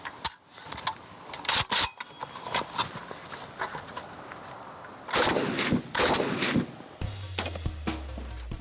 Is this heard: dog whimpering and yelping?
no